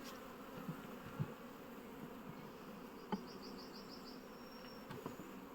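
Honeybees drone in a steady, low buzz around the hive frames, with a few faint knocks and a brief higher whine passing by.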